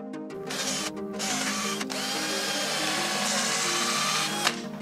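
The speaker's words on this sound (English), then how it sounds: "Now we can go back to the shop and drill these holes." A power drill boring holes in wood whirs steadily at close range in a workshop, its motor pitch rising and dipping slightly as it bores, with a couple of brief stops.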